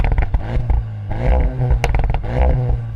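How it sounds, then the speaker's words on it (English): A performance Golf with an Akrapovic exhaust revs hard in repeated bursts, loud and close, with sharp crackles between the throttle blips. "Let's start with you and your Akrapovic exhaust."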